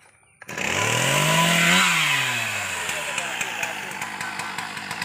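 A chainsaw starts suddenly, revs up high and then settles into a loud, steady cutting drone as trees are cut, close by and running throughout.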